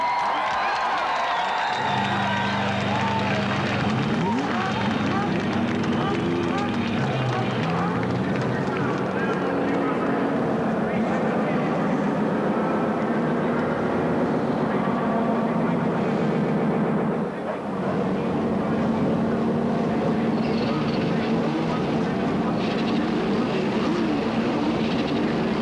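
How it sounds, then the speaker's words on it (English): A field of 1992 CART race cars fires up at Phoenix, engines droning together in a loud, continuous roar that rises and holds for the whole stretch, with crowd noise mixed in. "Gentlemen, start your engines!"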